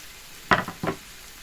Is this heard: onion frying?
yes